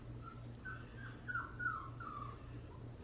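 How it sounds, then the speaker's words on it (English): Several dogs whine and whimper in the background in a series of thin, high, wavering cries over a steady low hum. "If you hear any whining in the background, just ignore it. I'm surrounded by dogs right now"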